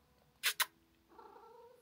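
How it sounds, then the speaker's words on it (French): A house cat close by gives two quick breathy bursts, then a soft low purring drone that carries steadily to the end, faint and alone. "Ça ronronne."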